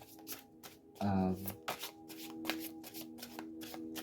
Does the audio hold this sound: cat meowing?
no